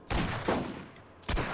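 Gunfire from a gun in the Borderlands video game, played in co-op: three loud, close bursts of shots, the first two close together and a third after a short pause, with reverberant tails between them.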